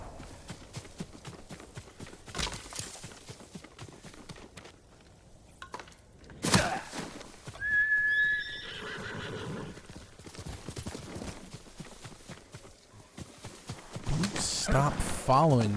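Horse hooves clip-clop at a walk with a couple of clear whinnies and neighs in Ghost of Tsushima on PS5, set against game ambience, while someone talks intermittently over the sounds.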